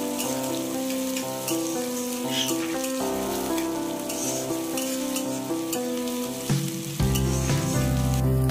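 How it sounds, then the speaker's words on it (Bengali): Chopped onion fries in hot oil in a wok, a continuous close sizzle with scraping stirs that shifts and swells near the end. A steady tonal background runs underneath. "পেঁয়াজ কুচিটা দিয়ে বেশ ভালোভাবে নাড়াচাড়া করে নিতে হবে।"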